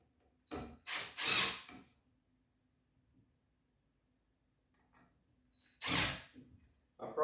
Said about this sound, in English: I'm gonna go ahead and start a screw